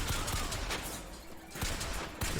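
Pistol gunfire in Bioshock Infinite sounds as several sharp shots among dense, noisy game action.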